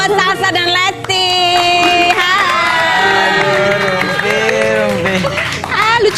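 A television talk show studio audience cheers and claps loudly, with bright melodic music tones and whoops running through the clapping.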